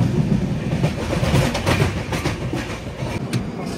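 Cocanada SF Express 12776 rumbling along the rails near Rajahmundry, a steady loud roar with rhythmic clickety-clack of wagon wheels throughout, heard from on board.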